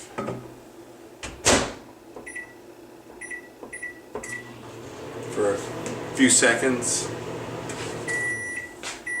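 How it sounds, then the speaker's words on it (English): Microwave oven humming steadily while it warms pierogi dough in a home kitchen, with door and cupboard clunks and short beeps around it as a person talks nearby. "I'm going to put it in the microwave"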